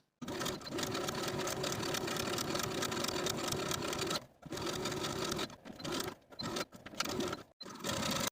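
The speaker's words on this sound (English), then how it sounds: "Edge stitching that raw edge from the bottom of the facing all the way up and around the neckline" A sewing machine runs steadily while edge stitching the raw edge of a silk dress facing, with several short pauses and restarts near the end; no voices are heard.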